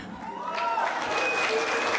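Applause from an audience at a concert or festive show, a dense steady patter of clapping throughout with some crowd noise mixed in.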